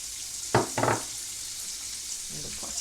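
Cornmeal is stirred in a very hot pot, with two scraping, splashy strokes near the start and softer stirring toward the end over a steady background sizzle.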